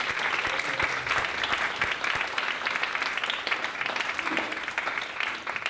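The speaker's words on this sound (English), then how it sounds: "Can we all give our team a huge round of applause?" An audience gives a steady round of applause, dense and sustained clapping from a crowd throughout, moderately loud with no pauses.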